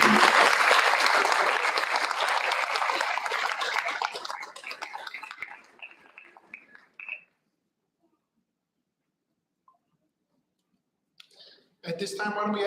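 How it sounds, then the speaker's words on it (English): Applause for school community volunteers at a board meeting, loud clapping from the room that tapers off over about seven seconds, followed by near silence and then a brief burst of noise and talk at the end. "Let's have a round of applause for our"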